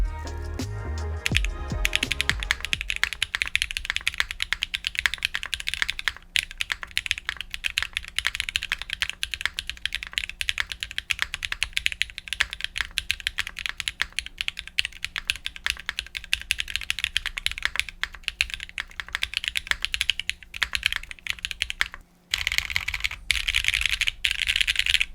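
Fast, continuous typing on a Mode Tempo mechanical keyboard, crisp clacky keystrokes in a quick, steady stream heard up close and alone, with a couple of brief pauses.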